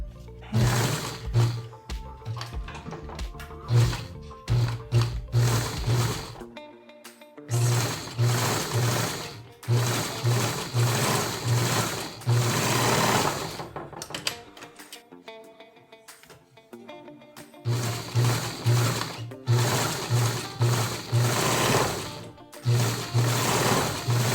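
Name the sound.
serger sewing machine finishing surgical mask fabric edge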